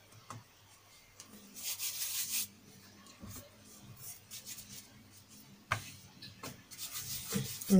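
Egg puff dough being rolled out on a floured surface, with intermittent rubbing, scraping strokes of the rolling pin that come in bursts between quieter pauses, close by.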